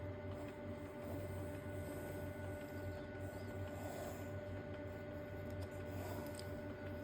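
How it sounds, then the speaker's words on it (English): A printer runs steadily with a mechanical hum and whir, rhythmic feed noises repeating at moderate loudness, no talking. "Sorry about the noise. That's the printer."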